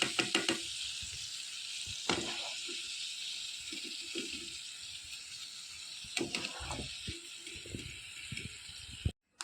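Raisins frying in a pan of hot oil for biryani give off a steady sizzle, with louder crackling bursts as they are stirred and lifted, close up and with no talking.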